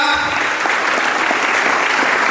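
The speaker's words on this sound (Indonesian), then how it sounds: "Beri tepuk tangan kepada untuk si Imelda" A classroom group claps for a student named Imelda during a character-building activity, a brief burst of dense, loud applause close by with a few voices mixed in.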